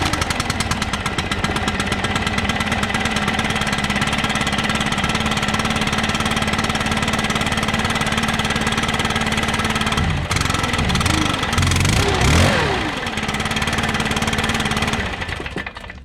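A Stihl BR700 backpack leaf blower engine running at a loud, steady, close drone, revving up briefly in the middle before dropping back to a constant roar.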